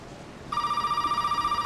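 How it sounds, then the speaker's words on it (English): A telephone rings in the video game Resident Evil 7, cutting in suddenly after a short quiet moment and continuing as a loud, pulsing electronic ring with no one speaking. "Is that a phone?"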